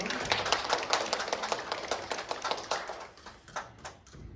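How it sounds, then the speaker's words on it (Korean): A church congregation at a Christmas service claps for a volunteer, scattered distinct hand claps that thin out toward the end, fairly quiet and roomy. "우리 함께 박수를 좀"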